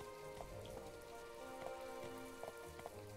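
Steady rain patters on surfaces in the video game My Time at Portia, a soft continuous wash with a few slightly louder drips over a low, faint hum, no one talking.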